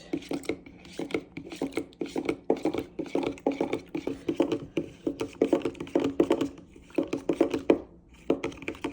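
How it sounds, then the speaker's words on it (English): Yogurt is stirred briskly in a container, producing a steady run of rhythmic scraping and tapping strokes, close and fairly loud, with short pauses between bursts. "I'm gonna mix that yogurt."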